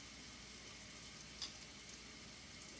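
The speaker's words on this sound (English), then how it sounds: "it's right now sizzling in the warm hot oil" Fish fries in hot oil with a continuous, even sizzle, a faint steady crackle heard close up with no voices.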